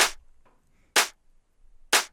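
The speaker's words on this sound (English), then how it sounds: "And then I am layering this snare with a clap sound" Three sharp, bright clap hits, a dry layering sample for a snare in a melodic techno track, spaced roughly a second apart, with faint quieter hits in between.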